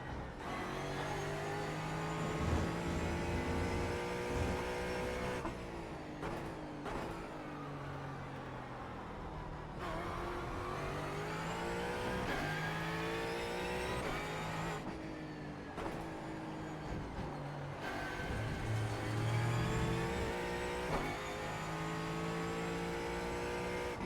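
Ford Mustang GT4 engine in the iRacing sim at Brands Hatch, loud and continuous, rising through the revs and dropping sharply at repeated gear shifts and braking zones, with occasional tire squeal.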